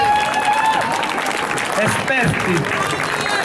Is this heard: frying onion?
no